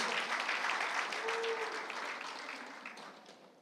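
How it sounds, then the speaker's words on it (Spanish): A church congregation applauds for God, an energetic burst of clapping that starts full and gradually tapers off, with a brief vocal tone partway through. "dale un fuerte aplauso a Dios"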